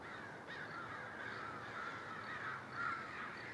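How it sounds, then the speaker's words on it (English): A large flock of crows keeps up a continuous chorus of rasping caws outdoors, the calls overlapping at moderate distance with no voices. "Why are there so many crows here?"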